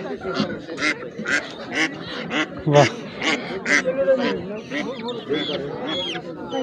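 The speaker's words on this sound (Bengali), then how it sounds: "দেখেন এখানে হাঁস মুরগির বিশাল সমারোহ আছে।" Geese and ducks honk and quack in a busy, overlapping clamor close by at a traditional village poultry market in Nagarpur, Tangail, with people talking over the birds throughout.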